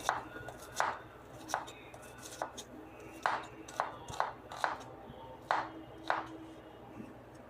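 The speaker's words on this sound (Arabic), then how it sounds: "البصل أنا هقطعه كده جوانح" Knife chopping an onion into wedges on a cutting board: about a dozen sharp, close knocks in an irregular rhythm over faint room noise.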